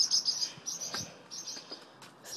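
A rescued baby bird gives high, thin chirps in a quick series, faint and close, with short pauses between calls and quiet surroundings.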